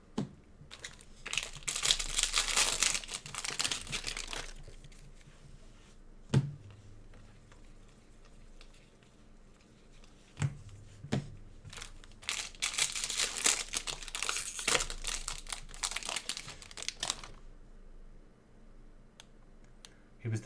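Paper and foil packaging crinkles during a baseball card box break, with bursts of rustling and crumpling that come in waves across the stretch, close and fairly loud.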